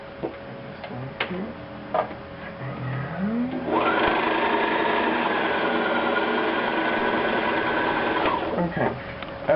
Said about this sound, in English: We need to put a spool of bobbin thread on here, wind it up.